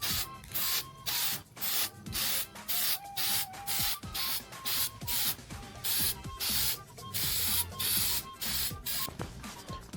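Spray bottles hiss in repeated short bursts, about one each second, as car wheels on an MR2 are spray painted, with faint nozzle clicks and rustling between the sprays.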